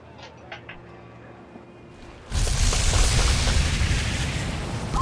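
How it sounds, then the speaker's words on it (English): A sea monster, a Leviathan, fires on a fortress in the fantasy strategy game Warlock: Master of the Arcane. After a quiet start, a sudden heavy boom leads into a loud, rumbling barrage that carries on to the end. "that Leviathan is just shooting at my fortress here"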